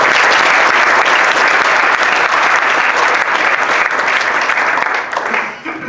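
Sustained audience applause for law students after a trial court oral argument, loud and steady throughout before thinning out at the very end, with a voice faintly audible beneath the clapping.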